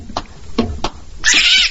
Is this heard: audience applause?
no